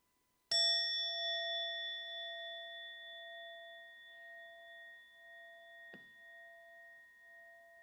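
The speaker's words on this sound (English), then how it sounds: "Let us enter the silence with the chime." A meditation chime is struck once during a spiritual service; its clear, bright ring sustains and slowly fades over several seconds, with a soft second tap near the end, alone in an otherwise silent room.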